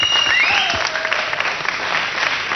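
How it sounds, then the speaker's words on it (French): A television studio audience applauds warmly, a brief burst of clapping that begins loud and eases slightly, with a faint rising whistle-like tone near the start. "Vous pouvez l'applaudir très fort"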